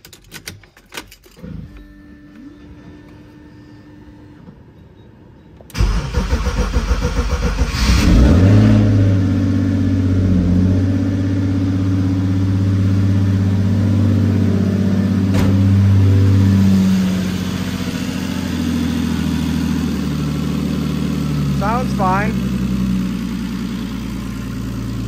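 A turbocharged BMW E46 with the M54 inline-six, just fitted with head studs, cranks and fires after a quiet moment, then idles loud and close with a rise in revs before settling back to a steady idle.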